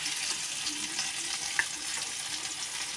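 Chopped ginger and green chili fry in white oil in a wok, giving a steady, fairly quiet sizzle with a small pop partway through.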